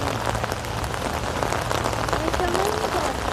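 Steady rain patters on a river around a traditional wooden boat, a dense constant hiss at close range with a faint voice briefly in the background.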